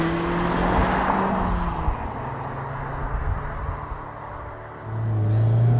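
A 2022 Mazda MX-5 Miata Club with Kinematic Posture Control driving, its engine a steady low rumble throughout with road noise, swelling louder near the end as it accelerates.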